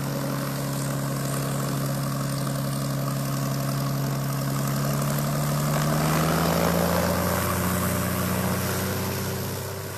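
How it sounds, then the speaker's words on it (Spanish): A small propeller plane at an airstrip, the last of several departing, drones steadily close by, its engine pitch sliding upward as it powers up and rolls out, loud and continuous with no talk over it. "esta es la última avioneta que sale de aquí del aeropista"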